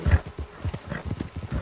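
Horse hooves clip-clop steadily in a rhythmic gait, loud and close, in the Red Dead Online video game, with no talk over them.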